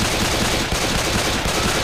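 Rapid automatic gunfire from a weapon in Left 4 Dead 2, a dense, loud, continuous burst of shots filling the whole stretch without pause.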